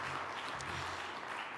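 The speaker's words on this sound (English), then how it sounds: "A round of applause for that as well." Audience applause at a Botswana tourism conference session, a steady wash of clapping that runs through the short moment at moderate loudness with no voices over it.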